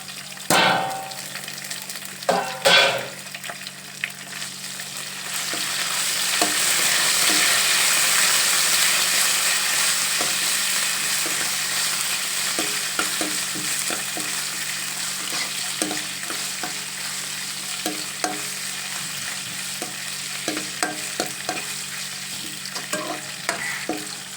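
Dried chillies, curry leaves and garlic frying in oil with carom seeds for a rice dish, a bright, steady sizzle stirred throughout with repeated spatula scrapes and taps against the pan.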